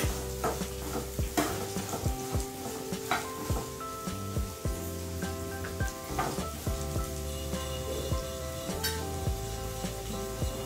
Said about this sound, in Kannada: ಒಂದು ಕಪ್ ಬೀನ್ಸ್ ಹಾಕ್ತಾ ಇದ್ದೀನಿ